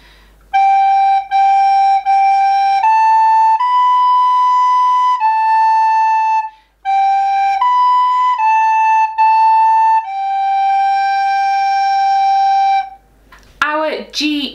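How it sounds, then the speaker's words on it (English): A soprano recorder plays the French folk song Au clair de la lune as a clear, pure-toned melody of held and repeated notes with short breaks, followed by a brief bit of voice at the end. "The piece we're going to put together is Au clair de la lune, a French folk song, and it sounds like this."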